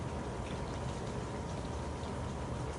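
Steady, even rain falling as a continuous soft hiss of drops, close and unbroken, with no voices.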